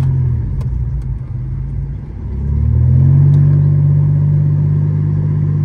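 A Triumph Stag car driving, its engine a loud, steady low rumble heard from inside, rising slightly partway through with faint clicks and no talk.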